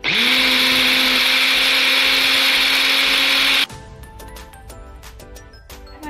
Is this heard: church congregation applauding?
no